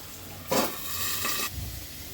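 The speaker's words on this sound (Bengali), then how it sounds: "আলুটা ভাজা হোক।" Potatoes hit hot oil with cumin seeds in a pan, giving a sharp sizzling burst followed by a steady, moderate hiss that fades after about a second, with no talking.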